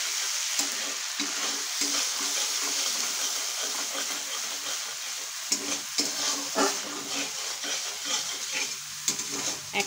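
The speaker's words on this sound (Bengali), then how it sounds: "এক থেকে 2 মিনিট মতো এইভাবে একটু সাঁতলে নেব, যাতে আদার কাঁচা গন্ধটা চলে যায়।" Ginger and green chilli paste fries in mustard oil with a steady close sizzle, broken by scattered stirring scrapes and small pops for about ten seconds, with no talking.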